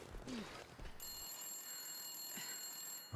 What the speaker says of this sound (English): Can I hear a phone ringing?